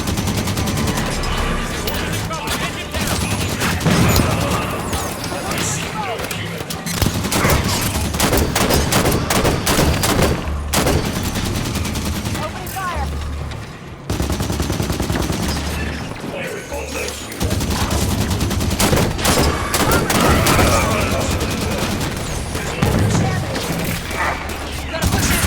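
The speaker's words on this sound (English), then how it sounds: "Turrets on and firing." Automatic turrets fire on Prometheans in Halo 5: Guardians, a dense, sustained barrage of rapid shots and blasts running through the whole stretch, with game voices speaking over the gunfire.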